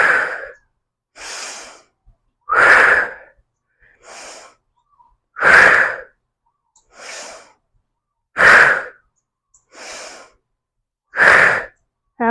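Rhythmic heavy breathing during a standing leg lift exercise, strong exhales alternating with softer inhales roughly every 1.5 seconds, close up with no talk.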